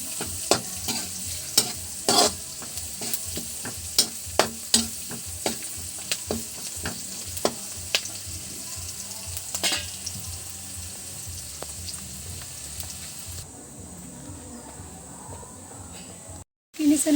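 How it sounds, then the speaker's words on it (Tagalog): Onion and garlic sautéing in a pan, with a steady sizzle under repeated clinks of a spoon stirring, close up, and people talking nearby; the sizzle quiets near the end. "Nagisa na po siya ng sibuyas at bawang."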